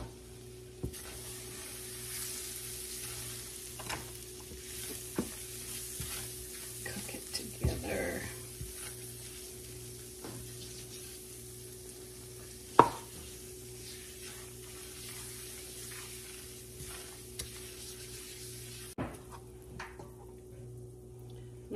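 Butter and flour sizzle quietly in a pot while a spoon stirs now and then, a soft steady frying hiss broken by occasional scrapes and light knocks.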